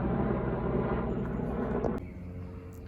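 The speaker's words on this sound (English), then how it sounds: "How can such a little helicopter make so much bloody noise?" A small helicopter passes overhead outdoors on gorse-covered open ground, its loud, steady rotor and engine roar filling the air, then dropping noticeably in level as it moves away.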